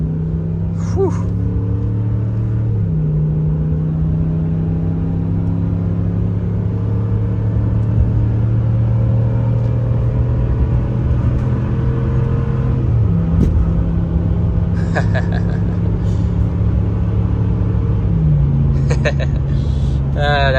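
Ram 1500 pickup with a Hemi V8 cruising on a winter highway: a loud, steady low engine drone whose pitch climbs and drops back at a few gear changes, with brief breathy vocal sounds over it.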